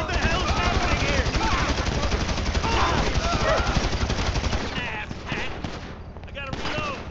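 Sustained automatic gunfire in Grand Theft Auto V, a rapid, relentless crackle of shots filling most of the clip before thinning out near the end amid game noise and shouted voices.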